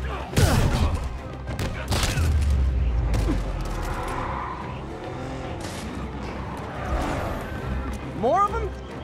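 Bursts of gunfire from armed thugs in the Spider-Man PS4 game, mixed with shouting voices and busy action sounds, fairly loud and continuous.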